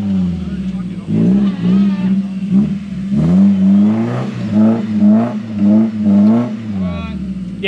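A Toyota Hilux stuck in mud, its engine revving in repeated surging bursts up close, with people talking over the noise.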